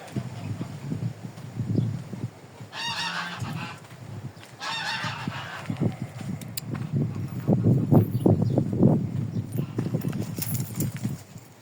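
Geese on a Ukrainian farmyard give out a couple of short honking bursts, close by, with steady outdoor background noise.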